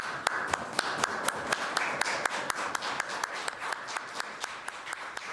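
Steady applause at a Canadian finance minister's swearing-in ceremony, with sharp individual claps punctuating a continuous wash of hands, fairly close and even throughout with no talking.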